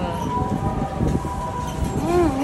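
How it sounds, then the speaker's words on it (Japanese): A fire engine siren wails faintly from a distance as a steady tone under indoor background noise, and a rising and falling howl-like sweep appears near the end. "消防車ちょっと鳴くね。"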